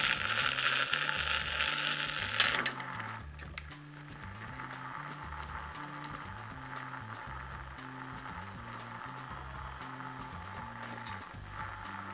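A mini washing machine runs while cleaning dirty white makeup brushes, giving a steady low churning hum with a rhythmic pulsing drone and a few brief clicks near the start.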